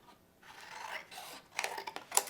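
Scissors trimming a Halloween craft piece, heard as brief close rasping snips and rubbing, soft at first and building to a few sharper cuts near the end.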